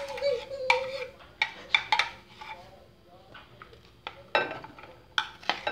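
A utensil mixes fish seasoning ingredients in a bowl for oven-grilled fish, giving sharp intermittent clinks and scrapes against the bowl in close, uneven bursts.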